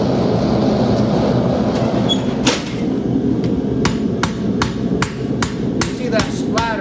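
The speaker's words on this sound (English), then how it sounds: "we'll weld the back side of the first shoe." Welding on the back side of a steel horseshoe in a farrier's shop, with a steady loud crackling arc throughout and sharp repeated metallic ticks of spatter or tapping in the second half.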